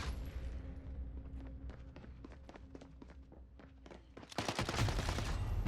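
Rapid bursts of Uzi fire ring out in a Warzone match, with quick shots crackling in clusters before a louder, dense wash of gunfire and action noise takes over near the end.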